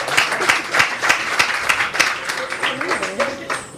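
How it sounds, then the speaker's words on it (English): An audience at a Janmashtami celebration applauds with continuous many-handed clapping, fairly loud and close, fading slightly toward the end as voices begin to rise under it. "we want to thank him with a big round of applause, Vinay."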